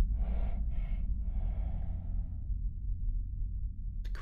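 In the horror game ROMUT, a creature lets out raspy breaths, two short huffs and then a longer exhale, over a low droning ambience with a sharp click at the end.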